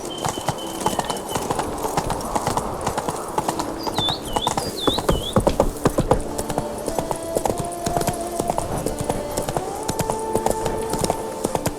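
A horse in The Witcher 3: Wild Hunt clip-clops steadily at a walk, its hoofbeats close and rhythmic throughout, with game music and brief bird calls in the background.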